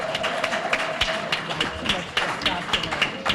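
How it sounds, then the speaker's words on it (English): Rally crowd at a plenary panel on international issues clapping for themselves, sparse, uneven claps and taps that sound fairly close, with some background voices. "So give yourself a round of applause."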